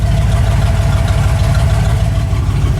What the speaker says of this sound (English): Exhaust sounds way better at idle now.